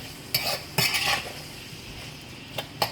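A utensil stirs vegan Tunisian fricassé filling in a pan, giving a few distinct scraping clanks and metallic clicks over a faint background sizzle, close up.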